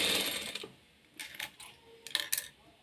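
Short bursts of a sewing machine stitching a frill onto a puffed sleeve, several quick mechanical runs with pauses between, close and fairly quiet.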